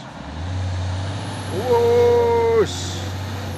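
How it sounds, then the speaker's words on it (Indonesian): Heavy Hino trailer trucks hauling a drilling rig crawl uphill, their low diesel drone steady throughout, while a loud multi-tone air horn blasts for about a second midway. "unit truk trailer"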